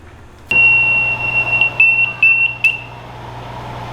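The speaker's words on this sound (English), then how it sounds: "I turn the alarm off like a pro" Brewery timer alarm beeping, a loud high electronic tone that starts suddenly, holds, then breaks into several short choppy beeps before it is switched off, over a low steady hum.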